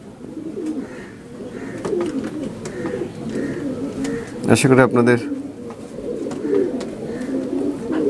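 A male Nildumma pigeon coos repeatedly in a steady low rhythm, close by, while someone talks over it and a short burst of louder sound breaks in midway.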